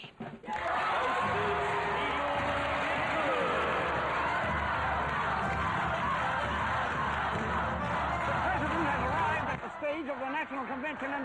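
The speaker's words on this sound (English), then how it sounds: "the crowd is giving him a tumultuous welcome" A large crowd at a national convention roars a tumultuous welcome in a dense, sustained wall of cheering and shouting that holds steady and then drops off near the end.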